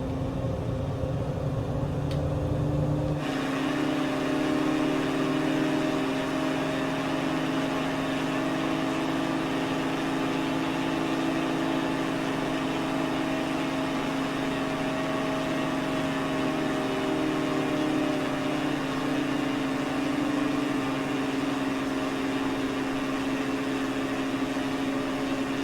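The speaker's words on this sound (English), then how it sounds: "I'm going to open the throttle and we're going to do a fly over here" Steady, loud drone of a Maule MX-7-180 light plane's engine at open throttle in Flight Simulator 2024 over Playa Sámara, Costa Rica, a constant humming tone running unbroken and alone after a brief rougher start.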